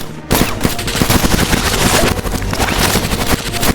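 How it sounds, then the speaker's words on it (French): Rapid gunfire in an action film, loud and continuous bursts of automatic shots with sharp repeated cracks throughout, no talk. "Jack, tirant sur son assaillant qui n'est rien d'autre qu'Allison"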